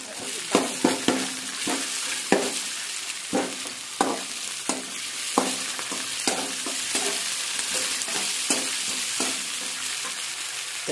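Tomato frying for a village-style mushroom curry, a soft steady sizzle broken by repeated scraping stirs of a spoon in the pan, close up and fairly quiet, with no talking.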